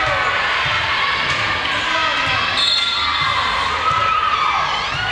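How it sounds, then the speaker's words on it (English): A visiting crowd at a women's college volleyball match cheers loudly and steadily after a kill, a dense wash of shouting and applause in a gym with a commentator's voice running over it. "Geneva's visiting crowd gets loud on the kill from Netherland."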